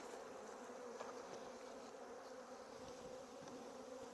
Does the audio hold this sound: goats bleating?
no